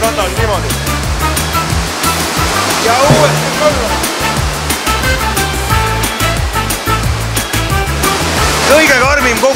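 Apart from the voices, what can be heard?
indoor surf wave rushing over the board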